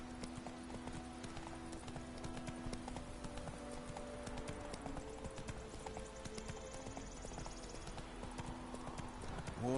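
Horse hooves clip-clop steadily at a walking pace in The Witcher 3, a continuous rhythmic trot heard close over a low ambient game soundscape with tonal background music.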